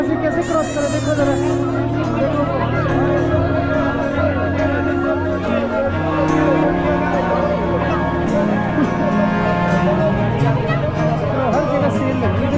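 A dense crowd packs a busy market at the Kullu Dussehra festival, producing continuous close babble of many voices with steady tonal music-like drones running underneath.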